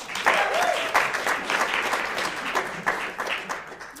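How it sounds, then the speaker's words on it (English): Audience applause fills a ceremony room for a certificate honoree, a steady wash of many hands clapping at moderate level that swells early and then gradually thins out. "Let's give her another round of applause"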